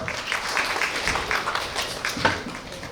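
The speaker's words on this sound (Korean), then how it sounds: "박수." An audience applauding at a special lecture for Korea's Aerospace Day, a fairly quiet, uneven patter of clapping hands lasting a few seconds.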